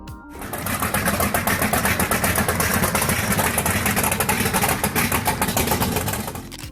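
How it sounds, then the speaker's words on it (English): A Chevrolet big-block V8 engine from the muscle car era runs loud and close, a rough, rapid pulsing rumble held steady for several seconds before easing off. "Number 7, Chevrolet Big Block V8 engine."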